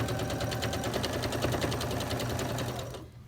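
A sewing machine stitches a quilt sashing strip in a fast, steady mechanical chatter, close and prominent, then winds down and stops near the end, with no speech.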